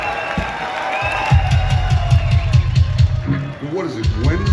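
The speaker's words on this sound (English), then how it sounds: "y'all give yourself a gigantic round of applause" A packed concert crowd at Harpos in Detroit roars and cheers for a metal show, a steady wall of shouts and whoops with low rumbling thumps underneath, continuing throughout.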